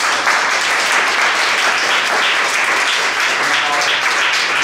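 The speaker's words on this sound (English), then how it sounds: "I want to give them a round of applause." A loud, continuous round of applause from an audience honouring debaters, dense and steady from start to finish with no voices above it.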